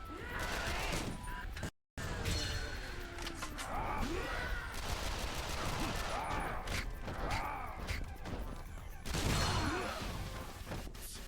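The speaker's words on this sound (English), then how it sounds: "the firework is really good for clearing out groups of zombies especially if I'm like near a wall" In the Yakuza Dead Souls video game, a firework weapon bursts among groups of zombies, giving a busy, crackling barrage of pops and booms with groaning undead and clatter, brief dropout near the start.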